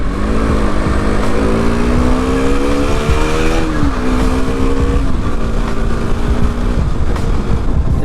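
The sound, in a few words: motorcycle riding on highway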